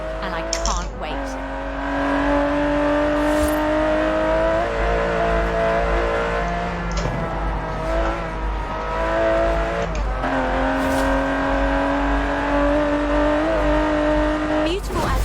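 An Aston Martin DB11 in Forza Horizon 4 revs and climbs through gears, its engine note rising, dropping at shifts, then rising again, loud and close while someone talks over it.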